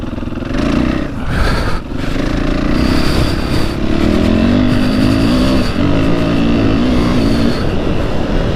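A Husqvarna 501 FE fuel-injected motorcycle engine runs loud and close, holding a steady rough drone with slight swells in revs and no talking over it.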